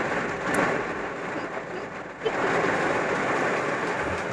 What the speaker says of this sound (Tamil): சவுண்ட் உங்களுக்கு கேட்கும்னு நினைக்கிறேன். நான் பேசுறது கூட சரியாக கேட்காது. அந்த அளவுக்கு மழை பெஞ்சிட்டு இருக்கு.